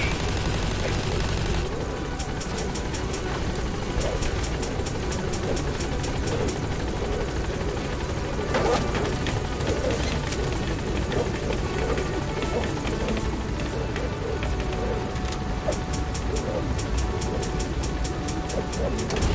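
Helicopter rotor chopping steadily in a video game war scene, loud and continuous with scattered bursts of gunfire and faint radio-style voices mixed in.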